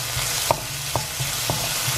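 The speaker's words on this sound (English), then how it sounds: "I'm gonna add just a touch of olive oil to really help these kind of brown up." Vegetables browning in a little olive oil in a pan give a soft steady sizzle, broken by four or five distinct stirring knocks spaced about half a second apart.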